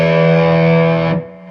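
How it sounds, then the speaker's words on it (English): A guitar sustains a single thick chord through fuzz and low octave pedals, buzzing and heavy with a deep doubled low end, loud and close, then choked off abruptly near the end with no talk. "put on a little bit of fuzz, and then this low octave thing"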